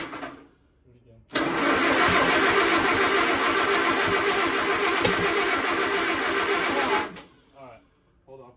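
An old Allis Chalmers WC tractor engine cranks and catches, running loud and steady for several seconds before cutting out abruptly, with brief talk before and after.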